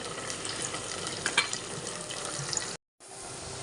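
Sliced onions frying in hot oil in a pan, a steady close sizzle with occasional stirring scrapes throughout, broken by a brief cut near the end.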